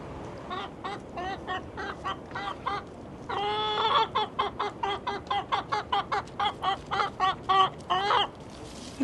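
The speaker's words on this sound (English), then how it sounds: "we have the chicken coop." Chickens clucking in a chicken coop, a rapid run of repeated clucks and squawks with a louder burst of cackling partway through, steady and close.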